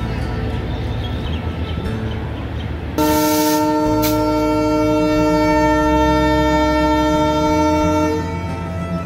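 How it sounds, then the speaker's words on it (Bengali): At Akkelpur railway station in Bangladesh, the Rupsha Express locomotive blasts a loud, sustained horn for about five seconds as it departs. Platform noise comes before the horn, and the engine rumbles steadily underneath. "রূপসা এক্সপ্রেস নির্ধারিত যাত্রা বিরতি শেষে আক্কেলপুর রেলওয়ে স্টেশনের 1 নম্বর লাইন থেকে ছেড়ে যাচ্ছে খুলনা অভিমুখে"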